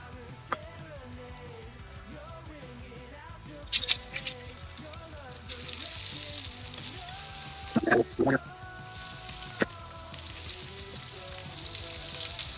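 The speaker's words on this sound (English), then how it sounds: "We got a pretty nice sear on that" Thin sirloin tip steaks sear in a very hot pan without butter. Quiet kitchen clatter and a couple of sharp knocks come first, then a broad, steady sizzle builds and continues, with voices and tonal sounds scattered through.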